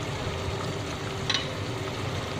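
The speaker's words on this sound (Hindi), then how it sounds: "अब हम इसके अंदर मसाले भरी मिर्च ऐड करेंगे।" Masala-stuffed chillies drop into a pan of achari mutton curry, which keeps up a steady, even sizzle and bubble close by, with a faint clink partway through.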